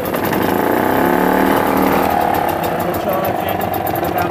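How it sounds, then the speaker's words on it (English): A small engine fitted with a Dynastart starter-generator runs steadily and loud, close by, with a slight rise in revs partway through. "Okay, so now I've got the engine running. If I give it a little rev, you'll see the voltage go up."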